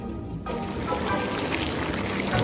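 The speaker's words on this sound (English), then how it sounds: "The witch boils some water to cook the children." Water pours in a steady, loud, continuous rush for boiling in a cartoon, starting abruptly and running alone without speech.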